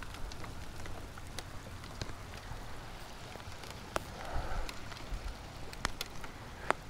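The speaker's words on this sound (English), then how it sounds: "All right, it's a good rain coming right now." Steady rain patters on a truck from inside the cab, a dense even hiss with scattered sharper drops striking the roof and glass, with no talk.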